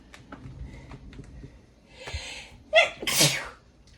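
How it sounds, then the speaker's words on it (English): A single close, sharp human sneeze bursts out near the end, preceded by a short sniffling build-up over a quiet indoor sewing-room background. "I gotta sneeze again."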